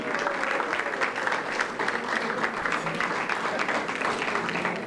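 Lunch-event audience clapping in praise of their city, a sustained even patter of many hands applauding in a room, steady and moderately loud with no clear talk over it.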